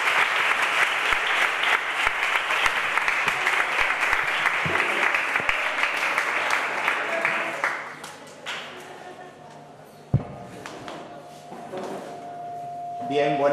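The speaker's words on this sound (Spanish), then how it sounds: "os dejo con Juan Ignacio Reales Espina y un aplauso para él" An audience at a young Rocieros gathering claps loudly for a speaker for about eight seconds. The applause then fades into a quieter room with a sharp knock and some light handling noise.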